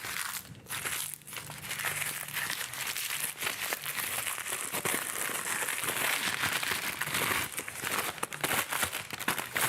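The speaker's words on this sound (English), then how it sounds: "parchment paper works the same, whether it's nice and smooth or, whoops, if you crumple it up" Parchment paper being crumpled up while lining a pie crust for blind baking, a dense run of close crinkling and crackling that goes on with no break and builds a little toward the end.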